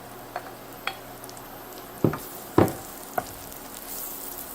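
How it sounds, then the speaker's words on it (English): Eight ounces of chopped button mushrooms in oil in a pan, giving a low sizzle under a handful of sharp clacks and scrapes as they are stirred, close and otherwise quiet. "And then I have chopped up the 8 ounces of button mushrooms. And I'm going to add those to my pan."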